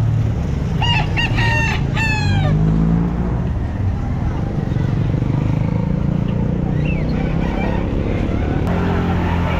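Roosters crow and hens cluck amid a busy outdoor din of traffic and distant voices at a pet market in Bocaue beside a highway, the crowing loudest early on.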